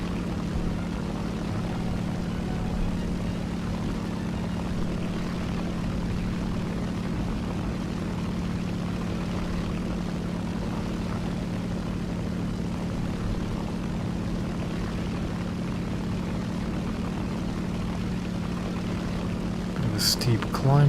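The engine of an SB2C dive bomber flown in a naval combat game drones steadily in a low propeller hum for the whole stretch, close and unbroken, with a brief click near the end.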